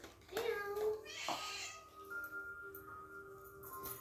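A cat meows once close by, then gives a shorter, fainter mew over a quiet room with a faint steady tone.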